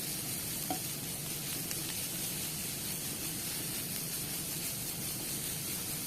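Onion and boiled pasta sizzle steadily in hot homemade olive oil in a pan, a continuous close frying hiss with faint stirring, no voices.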